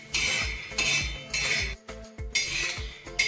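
Peanuts dry-roasting over a low flame are stirred in a pan, giving a steady, close rattling scrape in repeated sweeps with brief pauses, no speech.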